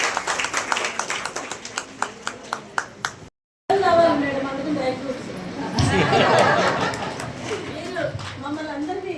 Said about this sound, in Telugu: మరొకసారి చప్పట్లతోటి అభినందనలు